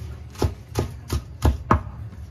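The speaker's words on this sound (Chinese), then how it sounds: "青菜也切碎" A knife chops green leafy vegetables on a board in five evenly spaced, firm thuds, close and clear against a quiet background.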